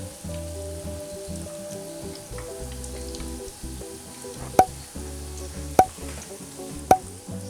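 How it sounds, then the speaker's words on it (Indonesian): Tofu fries in hot oil over medium-high heat with a steady, dense sizzle and crackle, broken by a few sharp metallic clinks as it is stirred now and then. "goreng tahu dengan tetap menggunakan api sedang agak besar sambil sesekali diaduk agar tidak gosong"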